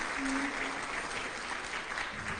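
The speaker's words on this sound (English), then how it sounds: "Yes, you deserve a round of applause." An audience at a State of the City address in Alamo applauds steadily for a couple of seconds, a dense wash of clapping from a crowd heard from the room.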